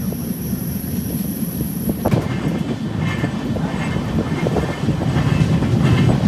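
A train rolls along the tracks near Murudeshwar, loud and close, with a steady rumble, rhythmic wheel clatter and occasional metallic squeals, and no voices.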